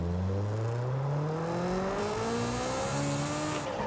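A turbocharged VTEC car engine in Forza Horizon 5 revs hard and climbs steadily in pitch through the gears, a loud continuous drone with rising whine and a brief shift dip, heard close and alone.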